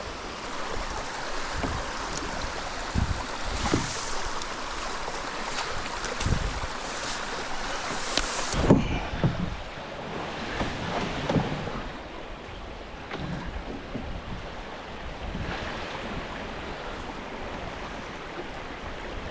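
A canoe is paddled across open water on a November hunting trip, with irregular nearby splashes and dips of the paddle over a steady wash of water and light wind, no talk.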